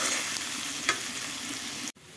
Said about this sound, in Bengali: এখন পেঁয়াজ ছেড়ে দিয়েছি, লাল লাল করে ভেজে নেব।